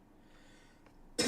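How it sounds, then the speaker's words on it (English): A single short, loud cough bursts out near the end after a quiet stretch of faint room tone. "Sorry, I have a cough right now,"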